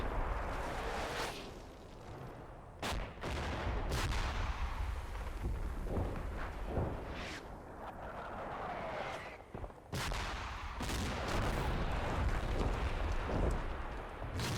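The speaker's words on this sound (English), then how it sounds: "These are enemy mortars falling in the woods down here." Enemy mortar shells burst among woods in a wartime combat video game, a run of heavy booming impacts at irregular intervals over a steady rumbling background, some near and sharp, others more distant.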